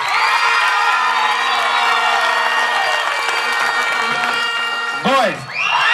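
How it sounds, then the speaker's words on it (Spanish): Crowd at a year-end effigy contest cheering, whooping and applauding loudly, with many overlapping voices and children's shouts that swell and then break into individual yells near the end. "que le demos un fuerte aplauso."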